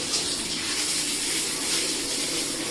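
Hot shower water sprays steadily over a dirty air conditioner filter being rinsed, a close, continuous hissing rush with no break and no voices.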